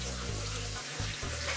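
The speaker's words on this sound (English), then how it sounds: "You lean over this sink and I'm gonna rinse your hair" A sink tap runs steadily to rinse hair at a salon basin, a close, continuous water rush with slight changes as the flow hits.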